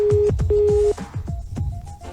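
A telephone on a call sounds two long steady electronic ring tones, one after another, followed by a softer tone that keeps going, all under lively studio speech in a comedy radio show.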